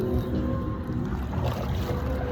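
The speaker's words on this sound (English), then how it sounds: "With the jet skis and the boats." Boat engines and jet skis run on open water in a steady, continuous drone, with wind buffeting the microphone and no one speaking.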